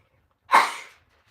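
A single sharp sneeze bursts out in a quiet kitchen during Thanksgiving cooking prep, close and moderately loud, rising fast and fading within half a second.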